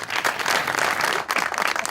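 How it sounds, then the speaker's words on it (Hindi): Studio audience applause on a television talk show, a burst of many hands clapping briskly and fairly close for a couple of seconds. "तालियां।"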